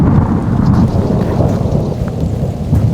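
Steady heavy rain and rolling thunder in the Australian outback, a continuous loud wash of falling water with low rumbling throughout.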